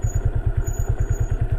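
Motorcycle engine on a narrow dirt path between cultivated fields, a close, steady low thumping beat that runs alone through the short stretch.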